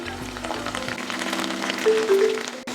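Green chillies, curry leaves and coriander sizzle steadily in hot oil for restaurant-style Chicken 65, a close, continuous frying hiss with a few soft stirring clatters near the start and no talk.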